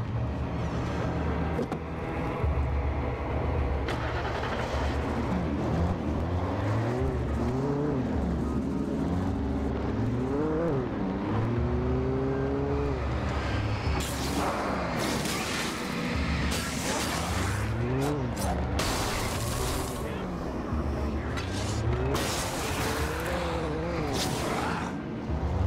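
A car's engine in the Alan Wake video game revs up and down through gear changes, with rising and falling whine held close and steady along with scattered clatter and bumps.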